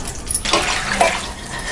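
Water pours steadily into a cooking pot while preparing Pongal with moong dal and raw rice, a continuous close splashing fill lasting under two seconds with no talking.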